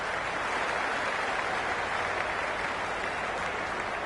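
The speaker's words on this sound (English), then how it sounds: "You can really feel the buzz around the spectator areas." Spectators at a cricket match clap in a steady, dense wash of applause that holds at an even level throughout, with no voices standing out.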